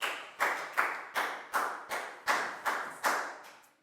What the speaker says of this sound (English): Big round of applause for proud